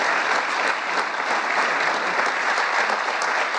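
A crowd applauds steadily after Medal of Honor recipients are honored at a White House ceremony, dense loud clapping sustained throughout with no talk over it.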